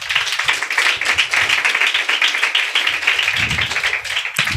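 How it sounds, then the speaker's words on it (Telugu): A church congregation at a Sunday worship service claps together in a quick, steady rhythm, many hands striking close and loud, with a slight shuffle and a louder cluster of claps near the end. "ఈ వాక్యాన్ని బట్టి పరిశుద్ధాత్మునికి ఒకసారి మనం చప్పట్లు కొడదాం"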